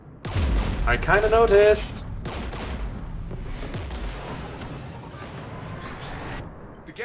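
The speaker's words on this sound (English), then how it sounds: "We're taking fire." Heavy gunfire and explosive booms in a Mass Effect 3 battle against Geth forces, loud dense bursts in the first two seconds followed by a sustained rumbling barrage, with a person speaking briefly over it.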